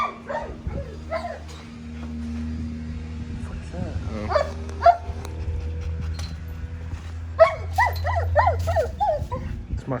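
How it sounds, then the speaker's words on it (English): A security dog whimpers and whines in high, wavering cries, breaking into short yips and barks, close by over a steady low hum. "It's my security dog."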